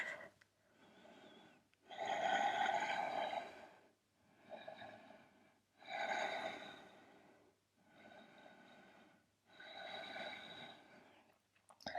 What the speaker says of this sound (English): connect that with your Ujjayi breath